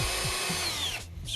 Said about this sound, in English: I'll mark it, drill it like this